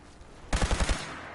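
Automatic gunfire in the video game Fallout 4: a sudden loud burst of about five rapid, evenly spaced shots, with no talk over it, then a short ringing tail that fades out.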